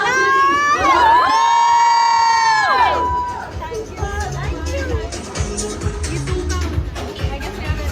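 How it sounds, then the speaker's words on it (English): A crowd at a birthday celebration cheers and applauds the judges, with shouts and whoops over a loud, sustained synthesized tone that cuts off partway through, after which the cheering and babble carry on. "Last round of applause to the three judges."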